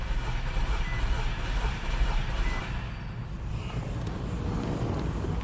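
The engine of a 2009 Nissan Altima that is running rough and smoking is cranked over during a compression test, giving a steady, loud, continuous churning whir that holds evenly and then eases slightly toward the end.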